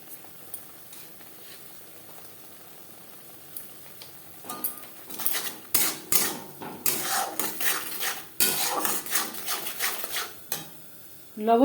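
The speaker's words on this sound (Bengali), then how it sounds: "পেঁয়াজের সাথে মশলা বেশ ভালো করে মিক্সড করে দেবো" A spoon scrapes and stirs spices with onion in a pan for katla fish belly curry, starting quiet and then turning into a loud, rhythmic run of metallic scraping and clatter.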